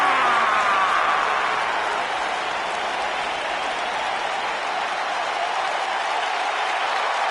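Steady crowd applause fills the arena in the WWE 2K19 wrestling video game, a continuous clapping roar with no voices over it.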